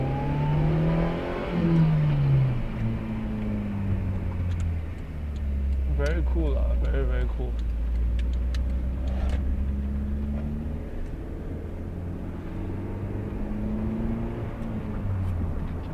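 A 1990s Honda Civic engine rumbles low and steady, rising as it accelerates in first gear, with someone talking over it throughout.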